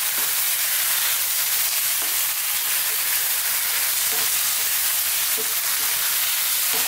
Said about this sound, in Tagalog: So mga ilang segundo lang, hahaluin ko to.